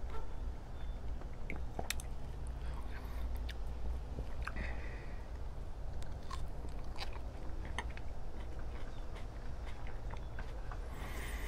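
Someone chews a Death Spiral hot pepper close up, with soft crunchy bites and wet mouth sounds repeating irregularly over a low steady background, no talking.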